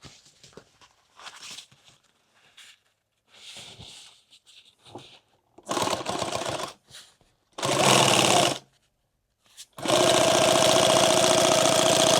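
A sewing machine stitches a leather tool bag in a series of bursts, short tentative runs at first, then longer, louder stretches of steady rapid stitching up close.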